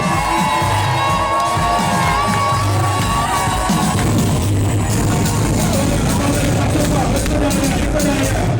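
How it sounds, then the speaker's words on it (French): A lively crowd at a Congolese wedding cheers and shouts continuously, a dense wash of voices with whoops rising over steady noise. "Applaudissez pour le dernier cadeau de la soirée."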